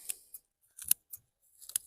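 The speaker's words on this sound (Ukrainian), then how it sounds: "Але коли сухе, то зручніше ножицями." Scissors snipping dry strawberry leaves in a garden, a few quick, crisp cuts in an irregular rhythm, close and fairly quiet with silence between them.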